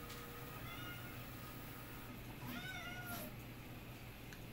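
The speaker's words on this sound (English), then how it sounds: "It's my cat." A house cat meows a few times near a Prusa i3 MK3 3D printer, faint and brief over a steady background hum, with one slightly louder mew midway.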